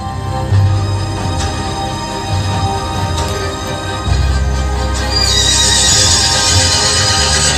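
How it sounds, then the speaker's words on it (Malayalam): Loud horse neighs and whinnies with clip-clop hoofbeats, played as a sound effect during a stage mime performance, filling the scene continuously with a fresh whinny rising near the end. "കുതിര ഓ"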